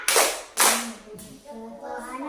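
Standing schoolchildren in an Indonesian classroom do the Tepuk Pancasila routine: two sharp, loud claps about half a second apart, then the young voices begin chanting.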